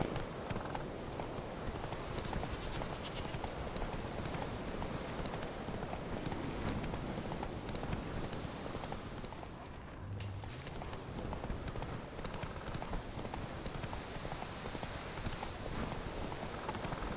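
Hooves of Roach, Geralt's horse in The Witcher 3, galloping in a continuous rapid clip-clop, loud and close for the whole stretch, with a brief dip midway and no voices.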